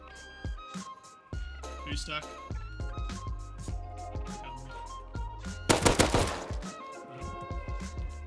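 Gunfire in a multiplayer video game, repeated sharp shots scattered across the clip with one dense rapid burst near the end, heard under music-like tones and people talking.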